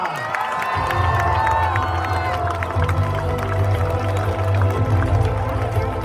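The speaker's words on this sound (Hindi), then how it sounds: "एक बार जोरदार तालियां और दूती चांद" Loud, sustained applause and cheering from a large audience at the 61st Femina Miss India event at KIIT University in Bhubaneswar, a dense wash of clapping filling the hall throughout with crowd noise underneath.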